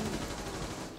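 Gunfire in Rainbow Six Siege ranked play: a steady rattle of shots runs through the whole second, partly under players' voices, ending in a brighter burst.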